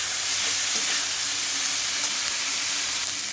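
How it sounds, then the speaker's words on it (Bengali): Boiled green peas frying in a pan with oil for flattened rice pulao make a steady, loud, dense sizzle that holds unbroken throughout, with no talking over it. "সেটাকে আমি আরেকটু ভালো করে ভেজে নেব"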